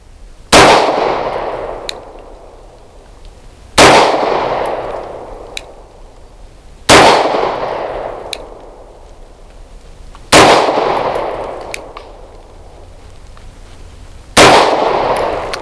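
A CZ 75 BD pistol fires five single shots of Browning 115 grain ammunition at targets, each a loud, sharp crack with a ringing tail, spaced about three to four seconds apart outdoors.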